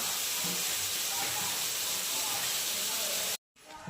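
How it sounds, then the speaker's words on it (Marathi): Onion hits a hot garlic, cumin and mustard seed tempering and gives a loud, steady, close-up sizzling hiss, which cuts off abruptly near the end. "जिरी मोहरी आणि लसणाची फोडणी दिली आणि आता टाकला कांदा भाजायला"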